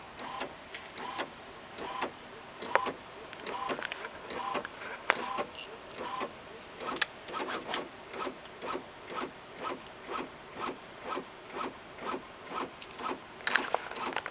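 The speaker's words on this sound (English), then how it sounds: "So it's beginning to print and it's fairly quiet. It's not a noisy machine at all." A Cricut Imagine machine prints with a quiet, regular mechanical rhythm of short whirring passes and clicks repeating about once per second, close by and without talk.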